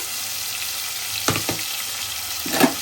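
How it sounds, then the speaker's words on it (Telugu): Onion pieces and green chillies frying in hot oil, a steady hiss close up with a couple of sharp bursts as ingredients hit the pan and a louder sputter near the end. "ఈ ఆయిల్ మంచిగా హీట్ ఎక్కాం కదా, పచ్చిమిరపకాయలు, ఉల్లిపాయ ముక్కలు వేసుకుందాం"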